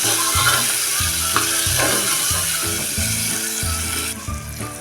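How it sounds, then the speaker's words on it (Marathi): Tomato sautés with browned onion in a pan, giving a loud, close, continuous sizzle. A rhythmic, repeated low clatter of stirring keeps pace through it. "टोमॅटो पूर्ण नऊ होरे होईपर्यंत आपण हा परतून घ्यायचा आहे"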